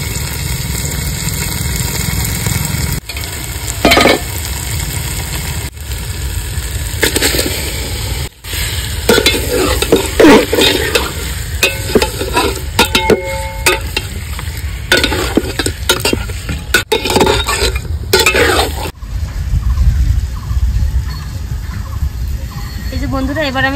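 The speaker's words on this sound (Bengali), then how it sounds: "মশলাটা যে সুন্দর কষিয়ে নিয়েছি, এবার দিয়ে দেবো ম্যারিনেট করে রাখা মাটনটা" Marinated mutton goes into hot fried spice paste for a Bengali mutton curry, giving a loud continuous sizzle with repeated scraping strokes of a stirring spoon, close up, broken by a few sharp clanks.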